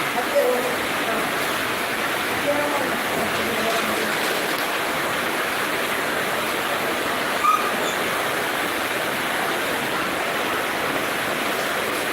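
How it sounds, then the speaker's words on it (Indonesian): Heavy rain falls at night during flooding, a steady soft hiss of rainfall filling the whole stretch, moderately loud and unbroken, with only faint scattered knocks and no clear voices. "Kayaknya hujannya nggak reda ini."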